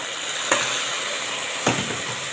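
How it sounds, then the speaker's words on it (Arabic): Chopped tomatoes and hot and mild peppers land on pasta in a hot pan with a steady, close sizzle, and two brief stirring scrapes break through it. "معايا هنا طماطم متقطعه على فلفل حامي وبارد. هنزل كده على المكرونه"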